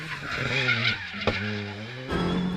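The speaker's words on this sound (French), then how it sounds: "Johan Bonato se régale dans les sous-bois de la 2e spéciale." A rally car charges through woodland on the second special stage of the Critérium des Cévennes 2019, running on hard tyres, its engine revving loud and close with gear changes and a brief tyre skid.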